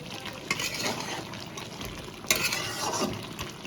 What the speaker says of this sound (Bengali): এই নাড়াচাড়া করে দিচ্ছি